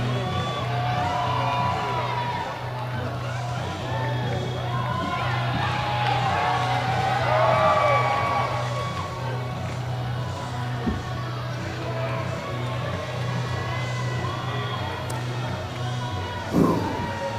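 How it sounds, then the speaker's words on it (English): Hockey arena crowd at a cup final roaring and cheering for player Gyori, a broad sustained swell of voices and whoops that peaks and slowly eases. "listen to the crowd for Gyori"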